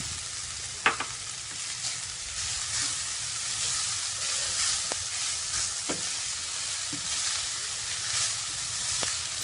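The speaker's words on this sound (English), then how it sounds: "Now I'm adding the bowl of rice" Rice being added to a sizzling pan with turmeric and pepper powder and stirred, a soft steady fry hiss broken by a sharp spoon clink and several light scraping taps.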